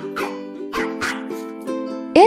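A small dog yips and barks several times in quick succession, close and fairly loud, ending with a sharper high yelp.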